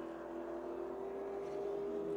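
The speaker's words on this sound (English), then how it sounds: "21 cars coming into the pits." Race cars roll into the pits during the 2006 Daytona 500, a continuous distant engine drone with a steady pitched hum that holds evenly, faint and unbroken.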